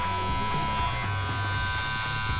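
Electric clippers taper the edges of a beard, giving a steady close-up buzz with a fine tonal hum and slight shifts as the blade meets hair, with no voice over the brief stretch.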